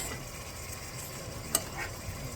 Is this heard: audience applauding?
no